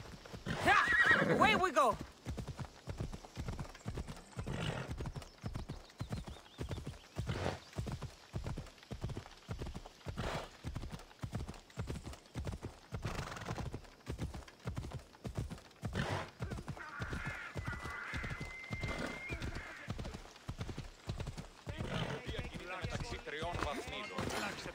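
Steady galloping hoofbeats drum throughout in Assassin's Creed Odyssey, with a horse neighing loudly at the start, and a voice speaking briefly over the rhythm.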